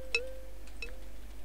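Water dripping in a dungeon in the video game Betrayal at Krondor: two sharp, bright plinking drops about half a second apart, faint over a low hum.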